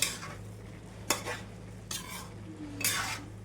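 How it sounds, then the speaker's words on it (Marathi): A spoon stirs amla gooseberries in a cooking pot with a few scraping strokes over a low hum and a faint sizzle, quiet and close. "अजून एकदा आपण छान हलवून घेऊया आवळे"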